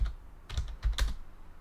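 A few sharp keystrokes on a computer keyboard as a terminal install command is typed, spaced taps in two or three quick clusters, close and fairly quiet with no voice.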